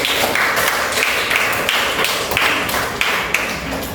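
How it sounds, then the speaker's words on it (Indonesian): Classroom students applaud at the end of a lesson, dense and loud continuous clapping from many hands with rhythmic bursts, little talk over it. "Tepuk tangan semuanya."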